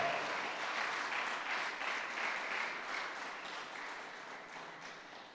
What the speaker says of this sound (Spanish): Yo creo que eso sí merece un fuerte aplauso, porque Él merece toda la gloria.